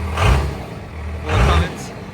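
Engine of a four-wheel-drive diesel pickup truck revving twice, rising in two strong swells around a steady rumbling idle, close by.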